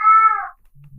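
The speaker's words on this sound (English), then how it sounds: "That cat just wants to be a podcast host." A house cat lets out a single clear, close meow that tails off after half a second, followed by a faint low hum in a quiet room.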